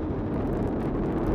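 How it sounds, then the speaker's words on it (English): Artemis I launch: four RS-25 core-stage engines and two solid rocket boosters make a deep, continuous, rumbling roar, steady and distant with a windy, crackling texture. "All four RS-25 engines on the core stage and two solid rocket boosters now propelling the vehicle"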